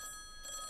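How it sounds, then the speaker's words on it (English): A phone rings with a steady electronic tone that holds for under a second, mid-loud and with no talk over it. "Is that my phone ringing?"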